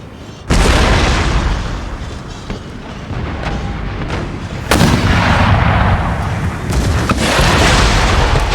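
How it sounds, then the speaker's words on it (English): Cannon artillery fire during a siege of Brussels in the strategy game Empire: Total War, with heavy booming blasts and a dense, rumbling roar of battle, loud and sustained with a second big surge midway. "so to reduce the amount of guns firing at us now"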